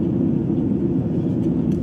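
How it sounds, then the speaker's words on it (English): Airplane engine drone heard from inside the cabin, a steady, loud, muffled low rumble with the higher tones dulled, continuous throughout and free of speech. "This is how the plane engine sound wave looks if you are outside the plane."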